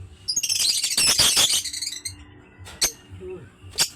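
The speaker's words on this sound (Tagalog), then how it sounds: "pakita ko sa inyo yung yung African bird ko, mga idol" An African bird calls up close in bright, rapid chirps and trills in a dense burst, then a few short single chirps after a pause.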